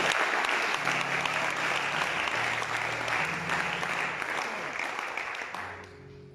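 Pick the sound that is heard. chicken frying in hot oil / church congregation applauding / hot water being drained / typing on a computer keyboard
church congregation applauding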